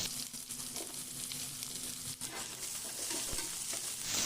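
Green chillies fry in a hot pan for Maharashtra-style poha upma, giving a steady, close sizzle with a few soft stirring scrapes and no talking.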